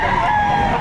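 A Black McRae rooster at a Batangas poultry sale crows in a short, loud, close call over the busy market murmur.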